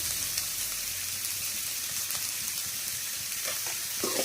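Carrot and beans poriyal sautéing in a pan, a steady close sizzle and frying crackle with occasional stirring scrapes, no voices.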